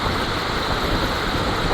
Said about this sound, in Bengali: কত পরিমাণ বৃষ্টি হচ্ছে।